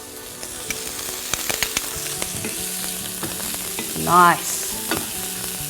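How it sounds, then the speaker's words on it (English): Butter sizzles in a pan of charred corn, a steady crackling fry with scraping stirs and utensil clinks, and a brief spoken word breaks in partway through. "Now I'm gonna add about a tablespoon's worth of butter to the corn."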